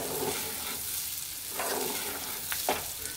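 Dal lentils fry and get stirred in a pan for a tomato dal curry, a soft continuous sizzle with a few scraping strokes from the spoon.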